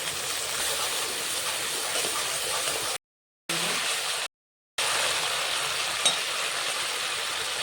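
Mustard paste with green chillies, sugar and turmeric sautéing in a pan, giving a steady hiss and sizzle that is cut by two short gaps of silence, with no voices.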